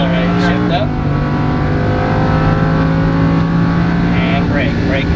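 A Lamborghini Huracan race car drones steadily on a track, its engine note holding loud and close with a slight shift in pitch partway through, while a voice talks over the engine.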